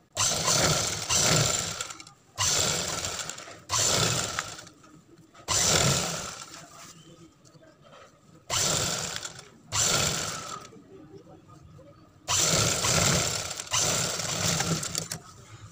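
A sewing machine stitches a seam along the embroidery on a work suit, running in repeated bursts of rapid mechanical whirring about a second or two long, each separated by short pauses, close and loud.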